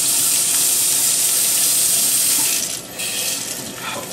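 Hot water runs steadily from a tap, a continuous loud rushing splash with no voices, dipping briefly near the end before carrying on.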